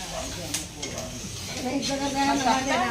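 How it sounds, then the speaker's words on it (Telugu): Spices tempering in hot oil for dal in a home kitchen crackle and sizzle steadily, swelling louder toward the end, with faint stirring and no talk. "పప్పుకు పోపు పెడతాంది"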